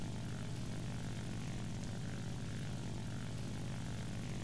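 A propeller-driven fighter plane's engine in the War Thunder combat game drones steadily and loudly from a close cockpit perspective, with no pauses and no voices.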